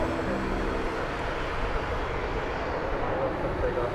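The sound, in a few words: Boeing Dreamliner arriving at DFW Airport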